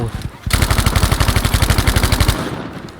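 Thompson submachine gun fired in Battlefield V: a loud, sustained burst of rapid, evenly spaced shots lasting about two seconds, preceded and followed by brief battlefield noise.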